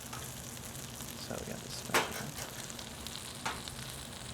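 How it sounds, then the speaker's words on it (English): French toast made from thick, stale baguette slices frying in several pats of butter in a pan, giving a steady soft sizzle with a couple of brief crackling bursts, with a voice speaking briefly over it. "You hear that sizzle? You don't get that with spray."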